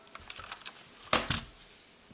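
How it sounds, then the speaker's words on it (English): Quiet clicks from a Motospeed CK62 mechanical keyboard, a few scattered keystrokes followed by a brief louder cluster, close and soft. "So the typing is quiet but has a bit of ping sound."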